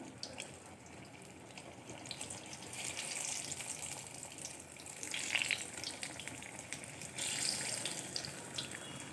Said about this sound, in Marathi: मी दोन वडे टाकले आहे हे आपण आता तळून घेऊया